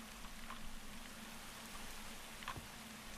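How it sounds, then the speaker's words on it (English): Rain falling in the Minecraft modpack Agrarian Skies 2, a soft, steady patter with a low hum beneath and a couple of faint drip-like ticks, heard alone at low level. "Oh no, it's raining."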